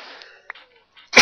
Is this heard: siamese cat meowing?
no